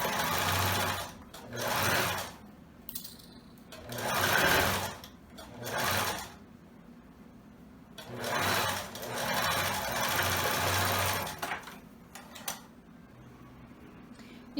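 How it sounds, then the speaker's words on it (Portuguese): A sewing machine runs a straight seam closing a waistband and elastic, in short bursts of rapid stitching separated by brief pauses, close and fairly quiet. "aqui fechando o cós com uma costura reta."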